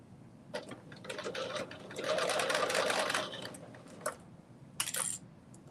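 A sewing machine runs a 5/8 inch seam allowance on garment fabric in short, close stop-start bursts, with one longer steady stretch of stitching and no talk.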